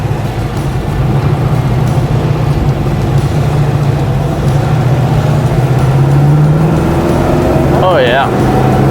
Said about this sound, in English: Show you how this Corvette drives.